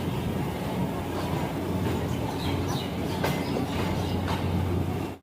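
A train from Rajkot pulls in at platform 4 of Delhi Sarai Rohilla, its wheels and carriages producing a continuous loud rumble with faint rhythmic clicks until the sound cuts off at the end.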